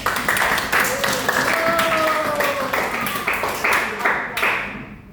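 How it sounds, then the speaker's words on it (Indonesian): A classroom group claps hands together through a guidance lesson, the dense clapping steady and fairly loud, with some voices mixed in and a tonal whistle-like sound briefly running through it. "Beri tepuk tangan semuanya"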